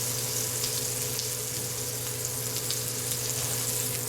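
A pork chop sears in a hot pan, giving a dense, continuous sizzling hiss that holds steady and fairly loud throughout, with no voices.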